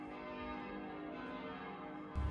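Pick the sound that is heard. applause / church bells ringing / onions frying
church bells ringing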